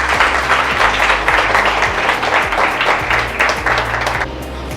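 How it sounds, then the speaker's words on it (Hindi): A seminar audience breaks into loud, sustained applause, dense clapping from many hands that holds steady and then drops off near the end, with faint voices underneath. "एक बार आप खुद के लिए जोर से ताली तो"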